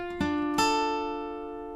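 A guitar plucks the third position of a riff, playing the third, fourth and second strings in turn: a soft note, then two firmer picked notes that ring out and slowly fade, with no voices.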